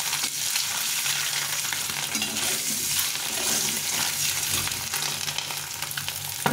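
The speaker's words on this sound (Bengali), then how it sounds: "ডিমটাকে একটু লাল লাল করে ভেজে নেব।" A duck egg frying in hot oil in a home kitchen, with steady, dense sizzling and crackling, occasional stirring scrapes, and no talking.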